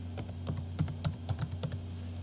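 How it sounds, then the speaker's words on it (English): Computer keyboard keys tapped in a quick irregular run while entering a password, close and soft clicks over a steady low electrical hum. "Let me type this right."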